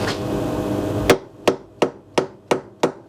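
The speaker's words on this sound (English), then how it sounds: "let me clamp that up there, give it a little tappy tap" A light hammer taps a workpiece clamped in a vise, giving six sharp, ringing strikes at a steady pace after a stretch of machine hum, close and distinct.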